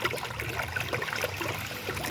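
Irrigation water flows steadily into a rice paddy, a continuous close trickling and gurgling wash lasting about two seconds with no voices.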